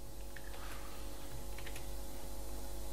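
Quick, faint keystrokes tap on a computer keyboard while PHP code is written, the light clicks sitting over a constant background hiss.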